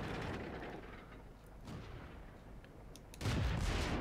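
A tank cannon fires in World of Tanks, a single loud, booming report near the end cutting through steady rumbling battle ambience.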